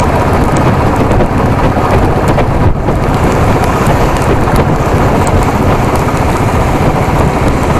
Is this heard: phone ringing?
no